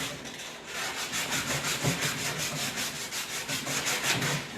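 Sandpaper rubs over the bare wood of an antique dresser after paint stripping, a close, steady run of quick back-and-forth strokes with a brisk scratchy rhythm and no talk.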